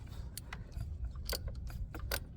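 A ratchet wrench clicks in quick, uneven bursts while loosening a bolt on a 2011 Mini Cooper S during fuel injector and high-pressure fuel pump removal, close and fairly quiet.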